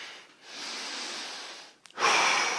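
Heavy breathing of a person recovering after an exercise workout: a long, drawn-out exhale, a brief pause with a small catch, then a sharp, loud intake of breath, close to the mic.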